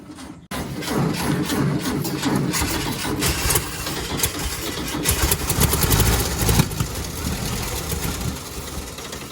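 A 1966 Volkswagen Type 3 Fastback that had sat in a garage for ten years cranks and fires, settling into a loud, rough, uneven idle that runs steadily close by with no talk over it.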